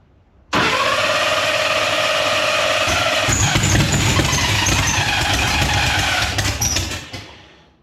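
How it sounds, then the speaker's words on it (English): A ProCharger-supercharged car engine cold-starts abruptly and settles into a loud, rough idle, with faint whining and a brief surge before it dies away. "Cold start seems to kind of suck still."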